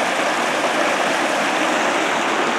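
River water rushes steadily over rocks at a rural crossing, a loud, continuous broadband roar with no break and no voices.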